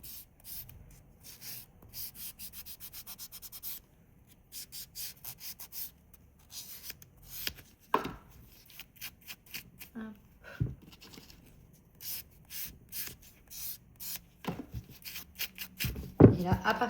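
Nail buffer rubbed across a fingernail to restore adhesion, producing intermittent soft scratchy strokes in quick back-and-forth bursts with brief pauses and a few sharper taps, close and quiet.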